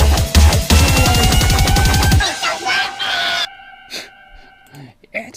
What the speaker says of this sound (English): So this is what the build-up actually sounds like.